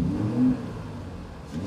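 A Mercedes G500 with a 3.0-litre turbocharged inline-six mild-hybrid engine gives a short, muffled rev, swelling briefly and then settling back, heard from inside the quiet cabin.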